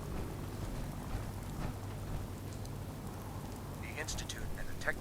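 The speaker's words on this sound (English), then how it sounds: "It's raining." Steady rain falling in a wasteland setting in the video game Fallout 4, a constant soft hiss of drops with low rumbling underneath, ending in a brief high-pitched sound near the finish.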